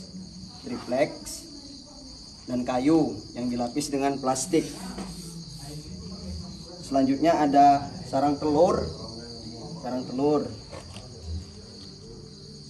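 Farmed crickets kept in plastic-lined wooden boxes chirp as a steady high, faint buzz running underneath someone talking throughout.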